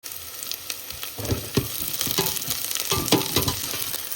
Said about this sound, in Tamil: இப்போ இந்த வெங்காயத்தை வந்து நல்லா பொரிய விடுறது